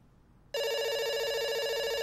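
An unanswered phone rings in a video game, its bright electronic tone starting abruptly and continuing unbroken and loud to the end, alone over faint background hiss.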